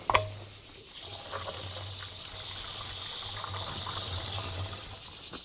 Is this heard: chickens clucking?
no